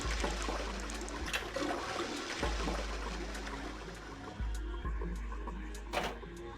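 Toilet flushes from a pulled chain-string in the puzzle game 999, with repeated gushing, rumbling water surges and clunks recurring over several seconds, no voices.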